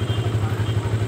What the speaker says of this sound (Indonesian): Ini mesin hidup.